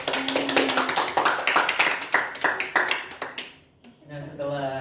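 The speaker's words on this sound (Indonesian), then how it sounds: "Tepuk tangan untuk kalian semua." A class of students claps together in a quick burst of applause, sharp dense taps for about three seconds before fading, followed by a voice speaking.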